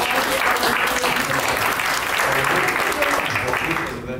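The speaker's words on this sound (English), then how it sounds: "Give you a round of applause." Audience at a press conference at MATRADE headquarters in Kuala Lumpur giving a round of applause, continuous dense clapping at moderate level with crowd murmur and some voices mixed in, tapering off at the end.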